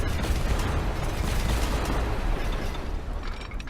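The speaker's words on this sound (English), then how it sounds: "Destroying a lot of roads." Roads being demolished in Transport Fever, a steady dense rumble of crumbling and bursting debris that runs loud and unbroken for the whole stretch, easing slightly near the end.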